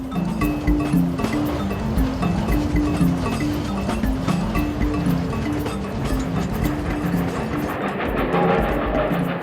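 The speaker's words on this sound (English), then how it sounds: "a freight train crosses the bridge, transporting copper from the northern copper belt" A freight train carrying copper rumbles steadily with rhythmic clanking of wagons rolling over a bridge, continuous and fairly loud, with no voices.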